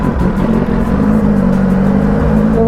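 A Kawasaki ZX10R motorcycle with an aftermarket exhaust rides along, its engine a loud, steady droning rumble with no talk over it.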